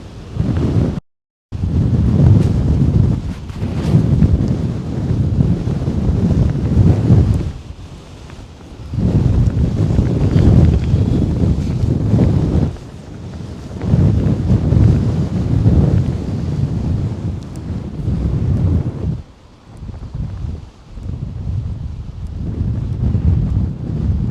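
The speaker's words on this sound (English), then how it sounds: "Now you can feel the wind." Strong wind buffeting the microphone on top of Glastonbury Tor, a hilltop with no other hills around, loud roaring gusts that swell and ease in waves throughout, with one brief dropout near the start.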